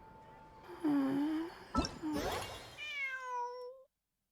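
A cat in a video game meows several times in a row, drawn-out rising and falling cries that are moderately loud and close, ending in a long high wail.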